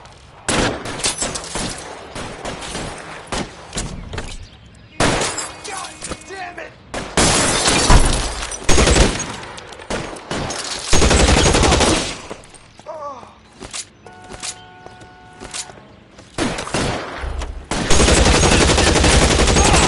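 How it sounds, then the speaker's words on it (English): Gunfire in the detective game L.A. Noire: loud, irregular bursts of shots with sharp cracking, shattering impacts and quieter gaps between volleys, with voices mixed in. "Suppressing fire."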